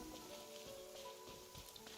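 Rainfall in the Genshin Impact game world, a steady wash of drops pattering on surfaces, continuous and moderately loud with no voices over it.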